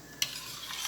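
A spoon stirs a jelly mixture in a pot, with one sharp scrape against the side followed by a steady, close swishing and slurry noise that continues to the end.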